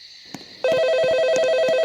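A telephone in the Roblox game Midnight Cop starts ringing with a loud, steady electronic trill that cuts in abruptly after a quieter tone and continues with rapid repeated pulses.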